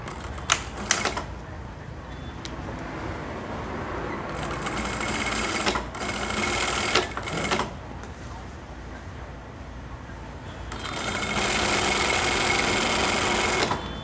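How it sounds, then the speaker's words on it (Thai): A sewing machine stitches the side seam of a skirt along a marked line, running in close, loud steady whirring bursts with brief stops and restarts between them. "แล้วก็เย็บด้านข้างเข้าตามรอยที่เราขีดไว้เลยนะคะ"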